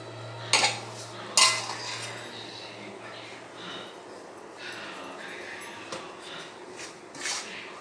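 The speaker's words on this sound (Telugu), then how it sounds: "తిప్పుతూ ఉండండి ఇలాగా" Gram flour being stirred into hot sugar syrup in a pan for Mysore pak, a spoon scraping and clinking against the metal with a few sharp knocks, close and fairly quiet.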